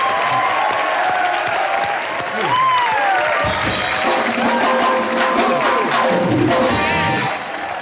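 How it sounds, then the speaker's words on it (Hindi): A television comedy show's studio audience gives loud, sustained applause that fills the room, with voices and show sounds mixed in beneath the clapping. "ये जोरदार तालियां एक बार मिस्टर सुनील पॉल के लिए।"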